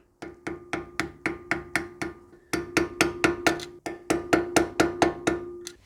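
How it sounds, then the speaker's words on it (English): Hammer tapping a flathead screwdriver against a bent star washer tab during a Toyota Landcruiser swivel hub rebuild, about twenty sharp metallic strikes in a steady rhythm with a brief pause midway, close and loud. "we're just going to take the flathead screwdriver and the hammer and just tap that out"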